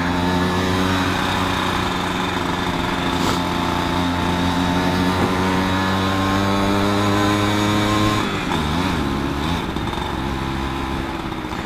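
Motorcycle engine running with a newly fitted replacement exhaust after the old one leaked, a steady loud harmonic drone that shifts pitch briefly near the end, with no talking.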